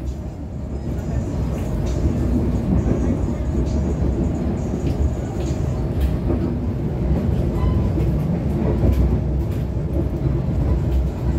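A passenger train, the Pangandaran service from Gambir to Tasikmalaya, rumbles across the CTI bridge with a continuous low, heavy rolling drone and faint metallic rattles, heard from inside the coach.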